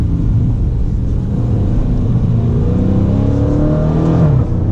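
A 2019 Dodge Challenger Scat Pack Widebody downshifting on the road, heard from inside the car as a loud, deep engine rumble with the revs rising and shifting through the gear change, steady and close throughout.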